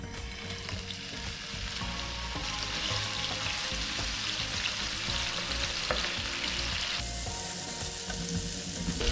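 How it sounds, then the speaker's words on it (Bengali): Pieces of tuna coated in salt, chili and turmeric fry in a pan with a steady, close hiss that brightens and grows louder toward the end, without talk. "আমি এখন এগুলোকে লবণ, মরিচ, হলুদ মাখিয়ে ভেজে নিব।"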